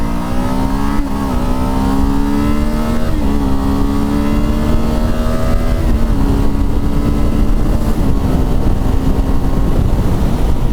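Kawasaki Z7 Hybrid motorcycle riding along a dual carriageway, a loud continuous engine drone with pitch rising through the gears and brief dips at each shift, heavy wind rush underneath, no speech.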